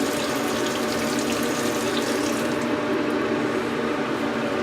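Water runs steadily from a tap, a constant close splashing hiss with no voices.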